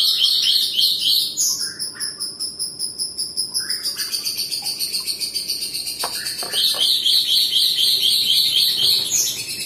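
A lovebird calls rapidly just after being separated from its mate, a loud, close stream of shrill, rhythmic chirps and trills that runs almost without pause.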